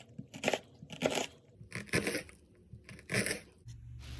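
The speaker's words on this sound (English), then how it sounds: "I'm going to dice our onion" A knife dices an onion on a cutting board during pasta sauce prep, giving a handful of quiet, crisp chopping bursts spaced unevenly with brief pauses between them.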